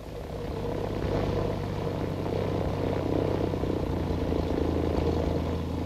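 A small propeller aircraft flies overhead, its engine drone loud and steady throughout, with no voices.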